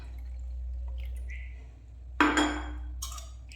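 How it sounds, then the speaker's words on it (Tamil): Cool water poured into homemade grape squash: a sudden bright gush starts partway through, splashing for about a second, then a short second burst, over a low steady hum. "கொஞ்சம் கூல் வாட்டர் ஊற்றிக்கலாம்."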